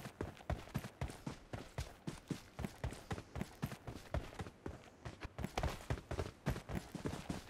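Rhythmic hoofbeats of horses in a video game, a fast, steady clip-clop of repeated sharp thuds running continuously and fairly close, with no talk over them.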